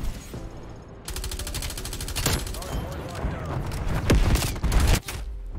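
Rapid automatic gunfire in the video game Black Ops Cold War, loud bursts of fast repeating shots with a few heavier booms and sharp cracks, close and dense throughout, with a voice talking in between.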